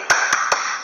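Three sharp, evenly spaced claps from a 'tepuk peduli' clapping chant in a third-grade religion class, crisp and close over a steady background hum.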